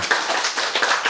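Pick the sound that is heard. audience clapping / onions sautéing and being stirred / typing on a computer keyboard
audience clapping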